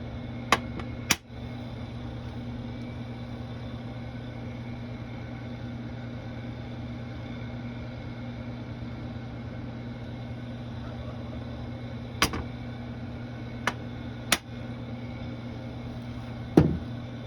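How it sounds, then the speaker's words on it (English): Constant low mechanical hum of an air conditioner and a window fan running, with a few sharp clicks and taps scattered on top. "the noise you hear in the background is my AC running and the fan in the window"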